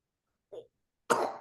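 A three-year-old girl coughs twice nearby: a small, soft cough followed by a louder, rougher one after a short pause.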